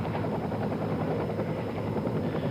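American military helicopters over Laos during the 1971 Vietnam War operation give a dense, continuous rotor roar with no break, loud and steady throughout.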